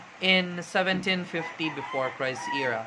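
A rooster crows and clucks close by in a series of loud, pulsing calls, partly overlapping a person speaking.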